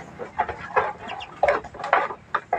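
Pet ducks being raised on a small backyard setup give repeated loud quacking calls in short bursts, close by, with no talk over them.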